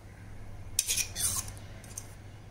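A spoon clinks and scrapes against a bowl in a few short bursts of stirring sago batter for fasting dhokla, fairly close, with no one talking.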